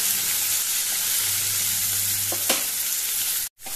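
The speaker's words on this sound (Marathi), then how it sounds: "आतांच भितर न्ही बटाट घालुया। आनी मिक्स करुया।" Potatoes sizzle steadily as they fry in a pan, stirred with a few scraping clinks of a utensil for Goan-style methi bhaji, the frying cut off abruptly near the end.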